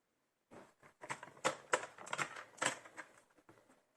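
Scissors cut small squares of paper, about 1.3 by 1.3, for a sliding birthday card. Close, crisp snips and crinkly paper handling come in quick irregular bursts for about three seconds.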